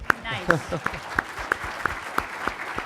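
A handful of separate, evenly spaced claps from a small audience at a Question Time panel session, slow and sparse at a steady beat, with a voice speaking briefly at the start.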